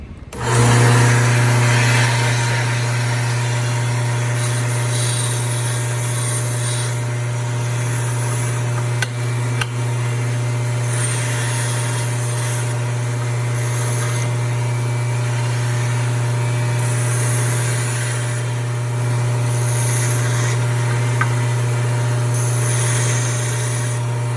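A workshop machine runs with a part clamped in its vise, giving a steady, loud, continuous mechanical hum and whir that holds evenly throughout with no voices.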